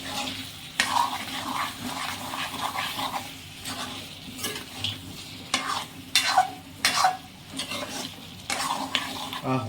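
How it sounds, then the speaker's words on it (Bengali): Bengali-style mutton frying in desi ghee is stirred in a pot, with a steady close sizzle and repeated scraping strokes of the spoon rising and falling throughout, no voices. "এবার এটাকে একটু নাড়িয়ে নেবো ভালোভাবে।"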